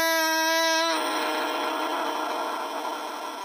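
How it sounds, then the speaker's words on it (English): A bassoon reed crows: a bright, buzzy reed tone sounds for about a second, then breaks into a rough, noisy hiss that continues and slowly fades. "So what you heard is the crow of the reed."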